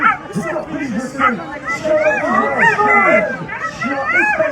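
Sled dogs bark and yelp in a dense, excited chorus at the start of a dog sled race in Aussois, loud and continuous, with crowd noise and a voice talking over it.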